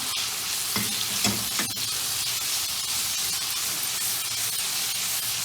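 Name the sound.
tomatoes and spice masala frying in a pan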